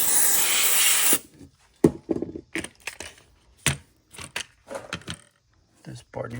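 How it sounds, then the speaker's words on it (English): Electronic parts cleaner sprayed onto the connectors of a Whirlpool Duet washing machine with a door lock fault: one steady close hiss of about a second, followed by speech and scattered small handling clicks. "I'm just gonna spray it there, spray the connectors."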